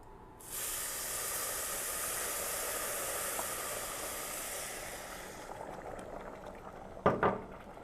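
Chickpea stew in a pot on the stove, a loud steady hiss and sizzle as water meets the hot pan, fading after a few seconds, then a few clinks of a utensil against the pot.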